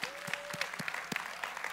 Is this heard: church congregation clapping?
yes